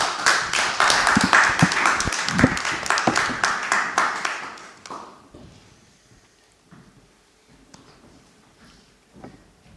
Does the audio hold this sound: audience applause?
yes